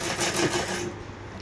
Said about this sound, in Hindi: इसी तरह से सारी पट्टियों को सिल लेंगे, इस तरह से हम सिल लेंगे।